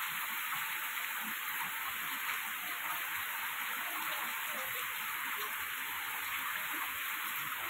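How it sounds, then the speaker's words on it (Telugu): Heavy downpour in a village, the biggest rain of the year, a steady broadband roar of water pouring without a break, close and constant, no voices. "ఏంటి వర్షం తగ్గట్లేదు అసలు"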